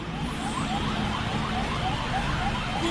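A wailing ambulance siren rises and falls in a rapid repeating pattern, heard faintly beneath heavy traffic rumble.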